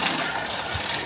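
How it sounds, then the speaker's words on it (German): Cooled elderflower syrup pours into a plastic bucket, a steady, continuous liquid gush and splash filling the pail at close range with no voices. "Jetzt wird es in den Plastikkübel geleert."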